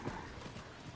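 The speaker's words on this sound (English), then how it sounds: "Alright, back on my horse." A horse ridden in the video game Diablo IV clip-clops along with a few quick hoof beats, quiet and brief, with a faint whinny-like sound at the start.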